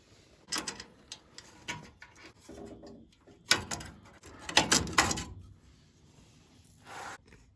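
Removing a headlight bezel's screw and top clip on a 1968/69 Mustang fastback: scattered close scraping, rubbing and light clicking of trim and metal parts, in irregular bursts with pauses between.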